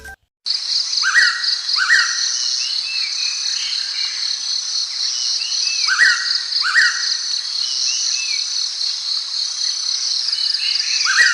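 Birds sing and chirp in repeated bursts over a constant high, shrill insect drone, with no voices present.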